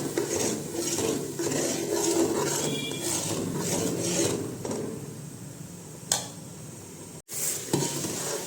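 Gravy with turmeric being stirred in a pan while it cooks for a dry potato curry, with a steady scraping and rubbing of a spoon against the metal and a faint sizzle underneath, then a sharp clack near the end.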